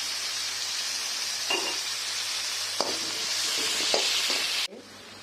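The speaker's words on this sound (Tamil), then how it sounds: "வெங்காயம் கொஞ்சம் சீக்கிரமாக வதங்கிறதுக்காக கொஞ்சம் உப்பு சேர்த்துக்கிறேன்" Chopped onions sauté with salt in a hot pan, giving a steady close sizzle with a few soft scrapes and taps of a stirring spoon before the sound drops away at the end.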